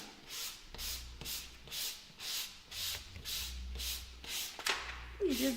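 Rhythmic back-and-forth rasping of sandpaper on a surface, about a dozen even strokes in steady succession, close and moderately loud.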